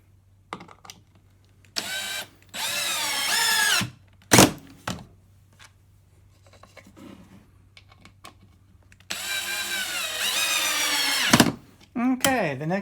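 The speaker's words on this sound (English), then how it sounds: "And then I'll go ahead and place my last 2 screws in." Power drill driving screws into a wooden dolly built for moving heavy doors and plywood, several separate whirring bursts of a few seconds each with short pauses, close and loud, with a sharp knock between runs.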